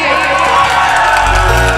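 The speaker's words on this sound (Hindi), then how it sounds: "जोरदार तालियां बजाइए" Loud crowd cheering and whooping at a ghazal singing event, a dense continuous roar of voices throughout.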